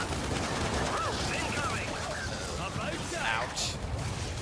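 Gunfire from the video game Gears of War 5 during a Hive Busters fight against a carrier, a dense continuous rattle of shots mixed with game effects, with voices talking over it throughout.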